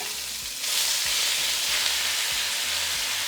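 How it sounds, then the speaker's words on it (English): Meat for pepper steak drops into hot oil in a wok and bursts into a loud, continuous sizzle, with faint scraping stirs underneath. "once our oil is nice and hot, we're going to add our meat"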